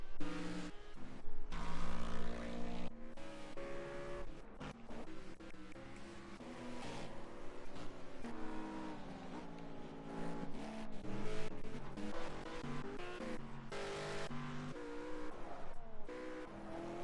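GT3 race cars passing on the track at Zolder, engines roaring and shifting pitch as they go by, with a continuous loud mechanical drone and some tire noise throughout.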